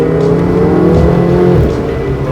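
A Ferrari engine holds a loud, sustained roar at high revs during a track drive, its pitch shifting slightly as the car pushes through a corner, close and continuous with no talk.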